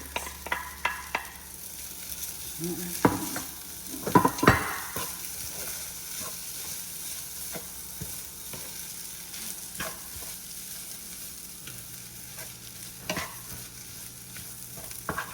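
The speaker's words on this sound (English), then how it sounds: "Remember, we fry all of them for veggies." Mixed vegetables for vegan pancit stir-fry in a pan, with a steady sizzle under repeated scraping and stirring strokes and occasional louder clatters of the utensil, close and continuous with no talk.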